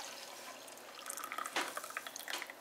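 Strong coffee pours from a French press through its spout, a soft liquid trickle growing into a brief splashing stream with a few drips, close and fairly quiet.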